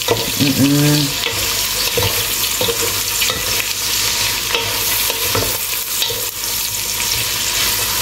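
Ingredients for pancit are sautéed in a pan, giving a steady close sizzle of frying with repeated stirring and scraping throughout.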